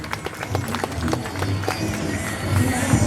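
A crowd at a BMX freestyle show at the Sydney Royal Easter Show cheers and claps steadily, a dense sustained roar of applause growing slightly louder toward the end.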